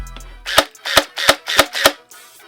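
A Faction Sentinel toy blaster turret fires on semi-auto, giving five sharp, loud snapping shots at an even pace, close by, with a brief whir before the first shot.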